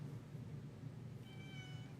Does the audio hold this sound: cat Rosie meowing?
yes